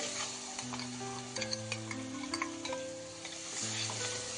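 Tomato puree fries in a pan for a Kara Boondi curry while being stirred, giving a continuous loud sizzle broken by repeated scraping of the spoon, with no voices.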